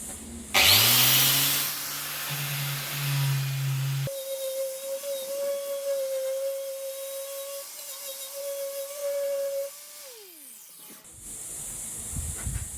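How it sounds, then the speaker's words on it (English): A steady angle grinder whines at a constant pitch while grinding rust and paint off 2008 Yamaha FZ6 N motorcycle handlebars, a harsh hissing scrape at the start, then the motor spinning down near the end. "I'm going to start cleaning it up with the angle grinder."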